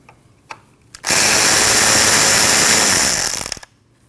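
A power tool spins out an 8mm bolt on a 2013–2019 Ford Escape 1.5L, one loud continuous whir lasting about two and a half seconds, preceded by a couple of small clicks and ending abruptly.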